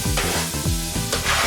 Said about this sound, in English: Got onions and garlic all together.